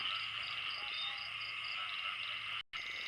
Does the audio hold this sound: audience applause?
no